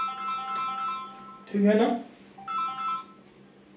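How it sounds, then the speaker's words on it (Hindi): A phone ringtone plays a bright, tonal repeating pattern, pauses while a voice speaks briefly over it, then resumes ringing. "लग रहा है कि पापा का फोन है"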